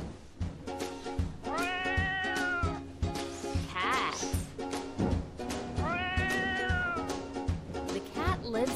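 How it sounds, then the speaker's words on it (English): A cat meows twice in long, rising-and-falling cries, close and loud, with steady background noise and faint voices underneath. "The cat likes to drink milk."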